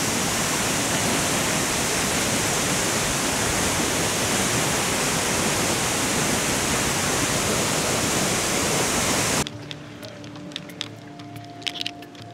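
Loud, steady roar of the Red Coral waterfall fills the first nine seconds as a broad, unbroken rush of water, then cuts abruptly to a much quieter scene with faint distant tones and small scattered sounds.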